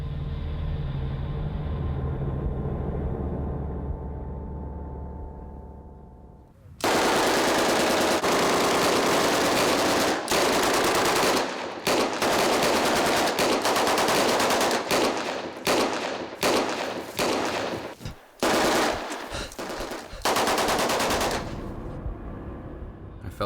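Gunfire sound effect for a wartime massacre reenactment: after a low rumbling lead-in, sustained loud bursts of rapid automatic fire crackle continuously with short gaps, then fade into a quieter tail.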